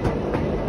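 A train rolling into Condorcet station on the line from Villars, a steady, close rumble of wheels and carriage noise throughout a short, brief stretch.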